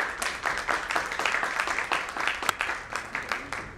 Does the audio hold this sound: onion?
no